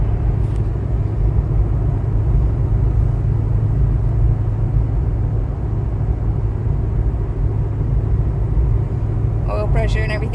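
A car engine idles with a low, steady rumble heard from inside the vehicle, continuous and fairly loud, with a brief clatter near the end.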